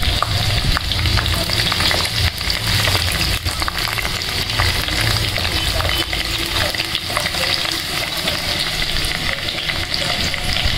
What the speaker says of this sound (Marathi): तो ब्राऊन होईपर्यंत फ्राय करायचा आहे।